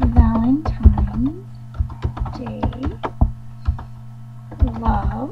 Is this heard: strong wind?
no